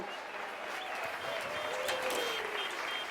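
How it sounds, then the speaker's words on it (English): A crowd at a polo match claps for both teams at the close of play, an even, sustained patter of applause heard from a distance with faint murmuring and whistle-like tones mixed in. "let's give both teams a round of applause"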